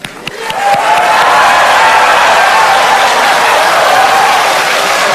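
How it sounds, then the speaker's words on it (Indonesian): A presidential debate audience breaks into loud, sustained applause that rises quickly after a couple of stray claps and holds steady as a dense wash of clapping. "kalau ada yang mau tepuk tangan silahkan"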